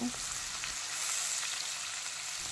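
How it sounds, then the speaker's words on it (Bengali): Chopped onions sizzle in hot oil with whole cumin seeds, a steady, close frying hiss that carries on unbroken throughout. "এবার হালকা করে পেঁয়াজটাকে ভেজে নেব"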